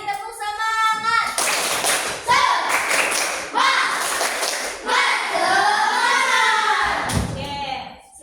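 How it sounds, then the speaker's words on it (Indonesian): A class of primary school children clap a rhythmic chant pattern in a classroom, with bursts of sharp, patterned claps alternating with a voice and the children's voices. "Sekali lagi tepuk semangat."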